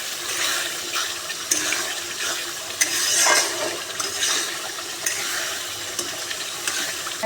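Spice paste with Kashmiri chilli and ground spices frying and stirred in a pan, a steady close sizzle with scraping stir strokes and a louder burst near the middle, no talk.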